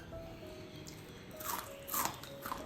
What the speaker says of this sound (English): Look at the crispy texture, how they break. Can you hear the crispy sound?